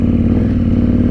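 A motorcycle crosses a bridge on a trail in General Nakar, its engine a loud, steady low rumble with a faint clattering texture, close and continuous, with no talking.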